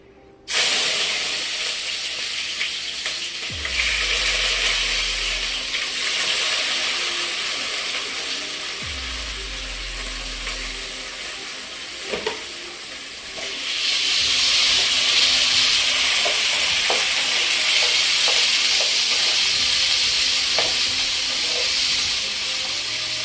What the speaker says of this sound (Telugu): ఇది వేడిగా వేసేద్దాం ఫ్రెండ్స్. ఉల్లిపాయలు వేసుకుందాము.